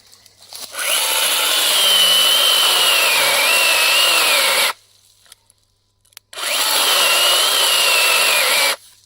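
Bosch CSM 1815 18 V cordless mini saw cutting wood, a loud high-pitched buzzing whine running for about four seconds, a brief pause, then a second cut of similar length, close and without speech.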